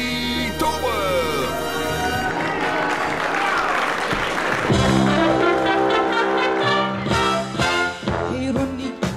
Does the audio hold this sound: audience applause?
yes